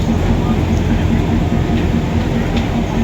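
Steady low rumble and rattle of a moving Thai passenger train heard from inside a carriage, continuous and fairly loud throughout.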